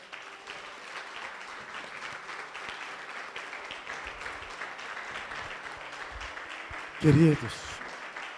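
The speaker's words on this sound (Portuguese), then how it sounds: "Você pode aplaudir ao Senhor?" Scattered clapping from a church congregation during a service runs under a preacher's voice, followed by a sudden brief loud burst near the end.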